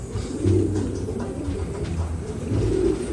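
Racing pigeons at a family loft, just back from a training toss, give soft, low cooing calls in repeated rounded bursts, close by, over faint background noise.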